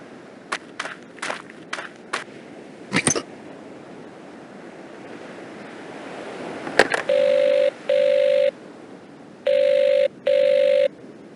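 A telephone rings twice in two pairs of steady electronic bursts inside the Agatha Christie: Evil Under the Sun video game, following a series of clicks and taps, with no voices.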